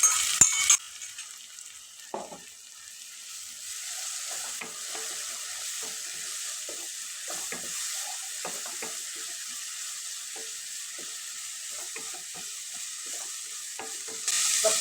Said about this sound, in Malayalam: നമ്മൾ നേരത്തെ അരച്ച് വെച്ചിട്ടുള്ള മസാലക്കൂട്ടുണ്ടല്ലോ, അത് ഇതിലേക്ക് ഒഴിച്ചു കൊടുക്കാം. ഒഴിച്ചാണ് നല്ലോണം ഇളക്കി കൊടുക്കണം.